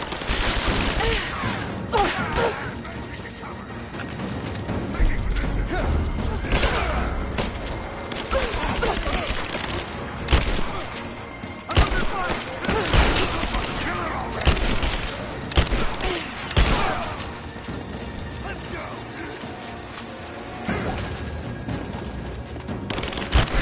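Dense, sustained war-game gunfire: overlapping rifle and machine-gun bursts with booming thuds, loud and nearly continuous, with brief voices shouting under the battle.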